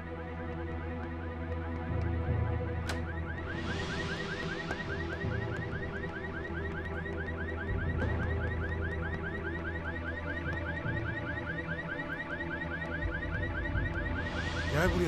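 A car alarm wails continuously, cycling through rising and falling electronic tones, loud and persistent throughout.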